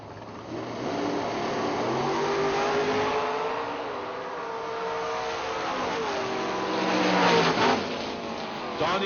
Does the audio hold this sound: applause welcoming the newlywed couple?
no